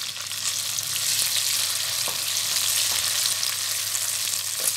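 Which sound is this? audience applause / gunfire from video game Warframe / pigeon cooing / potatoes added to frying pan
potatoes added to frying pan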